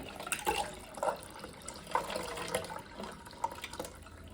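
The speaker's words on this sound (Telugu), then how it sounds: "ఐస్ వాటర్ యాడ్ చేసుకుందాం ఇప్పుడు బౌల్లో." Ice water poured into a bowl while preparing a coating for homemade fried chicken, heard as faint, irregular splashes and trickles with a few sharper plinks.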